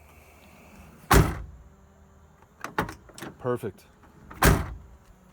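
The rear third door on a 1997–2004 Ford F150 SuperCab is tested after repair: two loud door slams several seconds apart, with latch clicks and a short mechanical rattle between them, close up, and someone speaks briefly.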